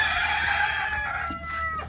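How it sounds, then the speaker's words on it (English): A rooster crows loudly and close, a sustained drawn-out call with other fowl clucking faintly behind it. "Crazy hens, roosters."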